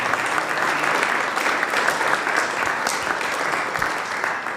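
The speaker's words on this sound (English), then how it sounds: "join me in thanking them by applauding" An audience claps continuously and loudly for a band, a dense, even wash of applause.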